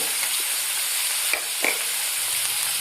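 Salted chopped vegetables being stirred in a pan over heat give a steady, close sizzling hiss, with two or three brief scraping stirs breaking through partway.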